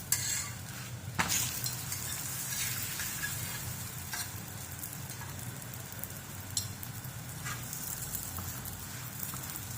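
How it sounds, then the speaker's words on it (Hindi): Lachha paratha cooking in ghee on a hot griddle gives a steady close sizzle throughout, with a few sharp scraping and clinking taps of a utensil against the pan. "जितनी देर से वो नीचे से पराठा बन रहा है, सेका जा रहा है, हम दूसरी साइड पे भी घी लगा लेंगे।"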